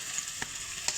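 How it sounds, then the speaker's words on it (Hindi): Mustard greens (saag) dropped into a hot frying pan for Punjabi-style sarson ka saag, giving a steady faint sizzle with two brief louder bursts as the leaves hit the oil, no voices. "साग डालूँगा जो मैंने गोटा लगा के रखा हुआ था, ये मैं इसमें डालूँगा।"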